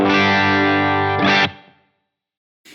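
An electric guitar through a Line 6 Helix Brit 2204 amp model, a Marshall JCM800 emulation, rings out a loud distorted chord with the power amp pushed, then a short scrape before it decays into silence.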